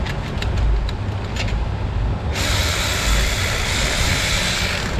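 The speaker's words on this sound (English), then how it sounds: "My cordless ratchet." A cordless ratchet tightens the front brake caliper bolts on a 2018 Jeep Cherokee, a loud close whirring buzz with a brief rattling burst partway through, running without talk.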